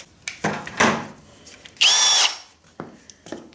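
A power drill drilling holes in a generator upgrade, with short bursts of whirring, one longer high-pitched run in the middle, then a few brief trigger pulls close by.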